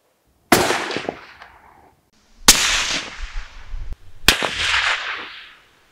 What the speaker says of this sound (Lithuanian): Ir darom 3 šūvius.